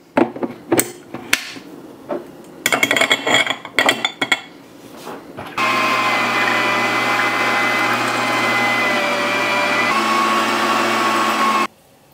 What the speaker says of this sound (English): We're gonna take this, we're gonna grind it and mix some spices in